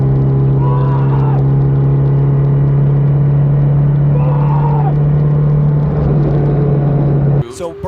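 A race car stuck in fifth gear drones loudly and steadily at a constant engine pitch during a Gridlife track battle, a sustained in-car roar with faint voice fragments, ending abruptly near the close.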